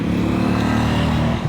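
A motorcycle engine drones loud and close for a moment, a steady buzzing rumble that shifts slightly near the end, with no talk over it.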